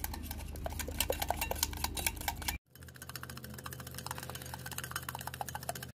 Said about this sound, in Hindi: इसे हम तकरीबन 5 से 6 मिनट तक ऐसे मिक्स करते जाएंगे, फेंटते जाएंगे